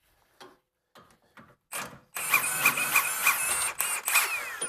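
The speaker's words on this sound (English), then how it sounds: "Let's try with an impact." Impact wrench rattling loose a rear strut bolt on a 2002–2008 Toyota Camry, with a few short taps first, then a loud, sustained hammering burst with a brief dip partway through.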